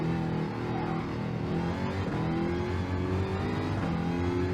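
A GR3 race car engine at Bathurst's Mount Panorama in Gran Turismo roars loud and close, its pitch climbing steadily under load with faint tire noise, no voices.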